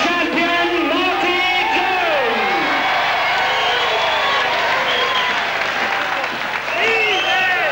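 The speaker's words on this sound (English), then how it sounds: "they're shouting easy, the Jones fans" Wrestling fans at a Marty Jones versus Skull Murphy bout chant "easy" in a loud, rising and falling group shout. Applause and crowd noise fill the hall throughout.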